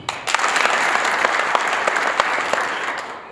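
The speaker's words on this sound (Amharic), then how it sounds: "ቃል ከበገባችሁልኝ አጨብጭቡ" An audience claps at a youth development event held by Image of Africa with the Generation to Generation Foundation Movement. The applause is loud and steady throughout, with sharp individual claps standing out from the dense crowd.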